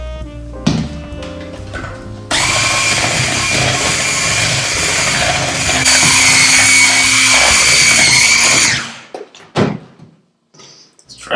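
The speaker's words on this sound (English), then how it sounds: "Now slowly but surely we're going to mix this into the wet ingredients" Electric mixer whirring steadily through chocolate chip cookie dough as dry ingredients are worked into wet ones, a loud continuous drone lasting several seconds before cutting off, with brief clatter after.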